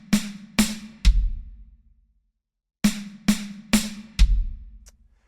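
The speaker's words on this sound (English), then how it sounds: "3 hits on the snare with a right, left, right, and then 1 note with the kick" Two groups of drum hits: three sharp snare strokes played right, left, right, followed by a deep kick, a short pause, then the same four-hit linear pattern repeats. Close and clear, no talking.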